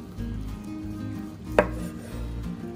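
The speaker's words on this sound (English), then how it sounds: "let's go ahead and slice this up some" A knife slicing through a smoked corned beef brisket flat cooked on a Pit Boss Lockhart Platinum pellet smoker, with one crisp cutting knock against a board midway amid quiet low background noise.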